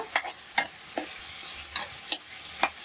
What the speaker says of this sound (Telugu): ఇప్పుడు ఇదండి అల్లం వెల్లుల్లి పేస్ట్ వేస్తున్నాను. ఇప్పుడు ఫస్టే వేయించేసుకోవాలండి మొత్తం అంతా కూడా.